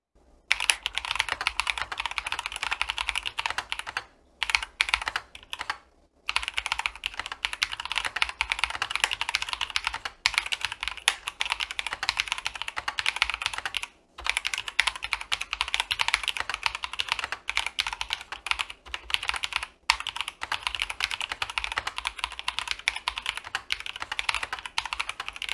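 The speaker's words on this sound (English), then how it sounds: "the sounds of the brown tactile switches" Continuous typing on a mechanical keyboard with brown tactile switches, rapid soft clacks in an even flow, close up, broken by a few brief pauses.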